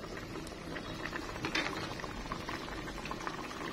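Jengkol rendang in coconut milk with garlic, shallots, candlenut, cardamom, bay and curry leaves simmers in a pot, giving a continuous soft bubbling and popping at a low, even level with no talk.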